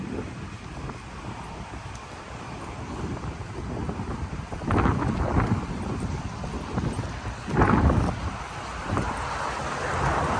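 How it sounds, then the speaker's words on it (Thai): Strong wind outdoors buffeting the microphone with a low, rumbling roar that runs throughout and swells into louder gusts twice partway through. "วันนี้ลมแรงจริงๆ"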